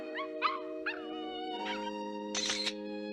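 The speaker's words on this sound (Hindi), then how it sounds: "मॉम, अभी मैंने एक डॉग की आवाज सुनी।" Short, high yelping dog cries, a few in a row and then one longer whine, play over a steady sustained musical drone in a Hindi-dubbed Doraemon cartoon episode.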